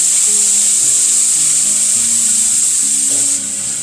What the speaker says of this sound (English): Slowly stir in on milk.